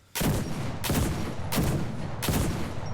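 Four heavy anti-tank rifle shots in a shooter video game, fired at a Panzer IV tank in practice mode, each a loud, sharp blast with a long ringing tail, spaced roughly two-thirds of a second apart, with no talking.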